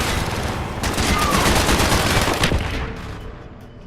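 Heavy gunfire in the Call of Duty Black Ops campaign forms a loud, dense fusillade of rapid automatic shots and booms that fades toward the end.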